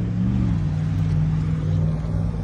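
Cars at a classic-car rally, among them a Citroën Xantia and a Ford Del Rey, accelerate away, giving a steady low engine drone that stays at an even level for the whole stretch with no talk over it.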